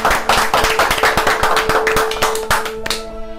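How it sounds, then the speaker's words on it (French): A small group applauds a contestant at a French game-show judging, with rhythmic, fairly loud close clapping that fades out near the end. "On peut l'applaudir."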